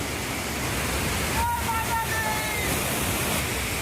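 The Banganga stream rushes steadily at the start of the Vaishno Devi pilgrimage route, a dense, continuous wash of flowing water that fills the whole stretch, with a faint tonal sound briefly riding over it midway.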